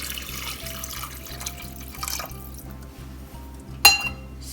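Water pours into lentils (dal) in a pressure cooker with a steady liquid splashing and gurgling over a low background hum, ending in a brief sharp clink near the end.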